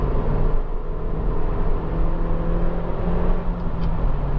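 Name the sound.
Honda Civic 1.8 i-VTEC engine revving in third gear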